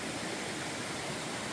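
Clear mountain stream water flowing down a valley, a steady broadband rush with no distinct splashes, soft and continuous throughout with no voices.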